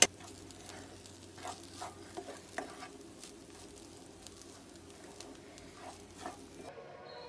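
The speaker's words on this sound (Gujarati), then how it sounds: "હવે મરચું બરાબર શેકાઈ જાય એની જોડે પછી શેઝવાન સોસ નાખીએ" Chilli frying with Schezwan sauce in a pan at home, a quiet steady sizzle with occasional stirring scrapes and clicks running throughout, no talking.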